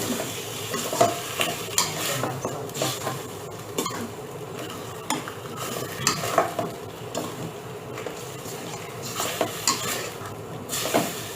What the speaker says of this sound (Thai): เราก็ คั่วจนเนื้อหมูสุก